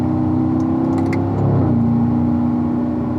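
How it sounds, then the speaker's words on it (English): A race car on a track accelerating hard through an upshift into fourth gear, a loud steady engine drone that dips briefly mid-clip and resumes at a slightly different pitch. "Let's keep accelerating now, upshifting to fourth gear."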